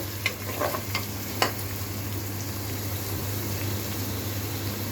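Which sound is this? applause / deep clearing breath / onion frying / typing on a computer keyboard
onion frying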